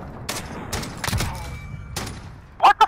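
Sniper rifle fire in a first-person shooter video game, several sharp cracks spaced across a couple of seconds, ending with two louder close shots.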